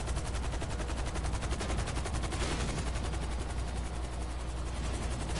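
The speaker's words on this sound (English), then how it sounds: "I need to shoot the cops behind me" Rapid bursts of automatic gunfire from a video game firefight with police, close and loud, running continuously with a steady rattling rhythm and no talking.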